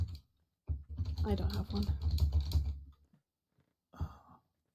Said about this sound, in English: it sounds very lyrical the way you're typing